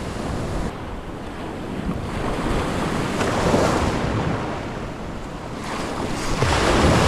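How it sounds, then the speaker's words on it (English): Rough surf on a fishing beach: waves break and wash in close by, a continuous roar that swells and eases, with wind buffeting the microphone. "right where these waves are breaking"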